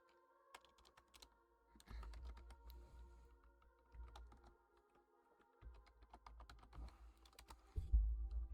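Typing on a computer keyboard, with quick bursts of close, crisp key clicks interrupted by brief pauses and a few dull thumps over a low background rumble.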